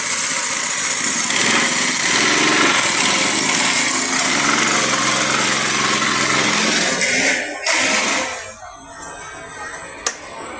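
A Motor Star 5.5 hp small engine fitted to an e-bike converted into a boat drone loudly and steadily for about seven seconds, then cuts out and fades to a quieter tail.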